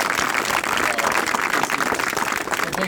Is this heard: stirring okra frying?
no